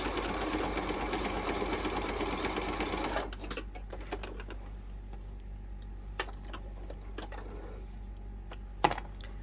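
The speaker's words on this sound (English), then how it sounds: "I'm not going to worry about back stitching or anything. I'm just going to top stitch." A sewing machine runs fast and steady for about three seconds, top stitching a fabric wallet with card slots, then stops, leaving a quiet room with a few soft clicks and a sharp tap near the end.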